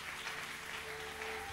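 Church congregation applauding during a service, a steady wash of clapping that carries evenly through the moment with no voices on top.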